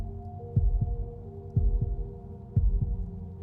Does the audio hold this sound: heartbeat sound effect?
yes